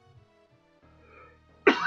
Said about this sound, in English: This damn cough.